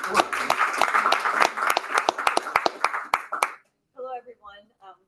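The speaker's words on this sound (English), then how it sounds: "let's give a round of applause to everybody" A panel audience claps in a round of applause for the AI policy speakers, a dense burst of many hands for about three seconds that stops abruptly, followed by a few soft spoken syllables.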